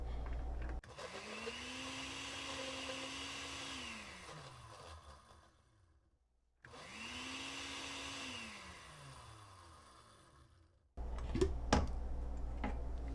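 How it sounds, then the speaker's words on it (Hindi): A kitchen mixer blending betel leaf for a milkshake whirs loudly in two long bursts, its motor pitch rising then winding down after each run, with a brief pause between. "इसको ठीक से एक बार हम मिक्सर में मिक्स कर लेंगे"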